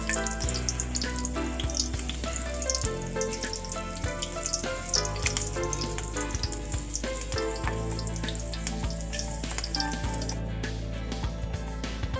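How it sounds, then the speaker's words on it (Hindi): Two slit green chilies frying in a pan for vada pav give a steady, close, dense sizzle that runs unbroken throughout, heard alone. "अब 2 ग्रीन चिली फ्राई करते हैं।"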